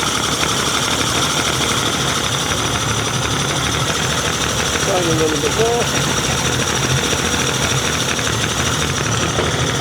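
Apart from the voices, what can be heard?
Yamaha outboard engine idling after rebuild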